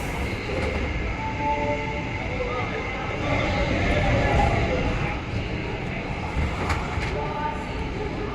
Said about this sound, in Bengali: এই যে ট্রেন চলতেও শুরু করে দিয়েছে